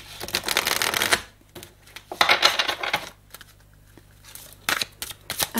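Playing cards are shuffled by hand in three quick riffling bursts separated by short pauses, crisp and close, before three intro cards are drawn; no one speaks.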